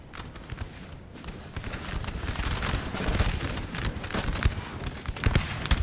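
Musket volleys crackle continuously across a Napoleon Total War recreation of the 1792 Battle of Valmy, a dense rolling fusillade of overlapping shots that grows louder and busier, with a galloping, churning battlefield din underneath.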